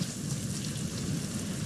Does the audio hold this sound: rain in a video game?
yes